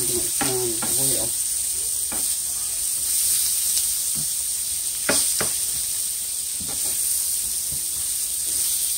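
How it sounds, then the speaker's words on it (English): Thin sliced steaks and onions fry in a hot pan with a steady, bright sizzle, broken by occasional knocks and scrapes of a utensil stirring and turning the food. "Put these onions over one time. The onions are pretty much done as well."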